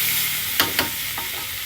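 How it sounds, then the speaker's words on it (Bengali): Water hits a hot frying pan of spiced curry, raising a loud, steady hiss of sizzling with two sharp splashy bursts close together and a softer one after. "এবার আমি জল দিয়ে দেবো"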